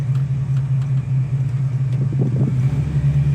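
A 1965 Ford Mustang Fastback with a C4 three-speed automatic driving along, its engine a steady deep rumble close up with a brief rise as it pulls through a gear.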